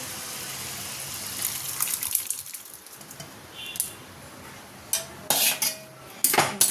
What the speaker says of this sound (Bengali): আমগুলো একটু নরম নরম হয়ে এসেছে এরপর এর মধ্যে দিয়ে দেবো ডাল